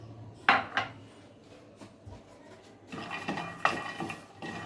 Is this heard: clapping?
no